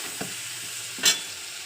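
Tomato paste with ground coriander, cumin, chili and turmeric sizzles steadily in a pan for a potol-aloo curry, a constant close frying hiss with a couple of soft stirring scrapes and one brief sharper burst.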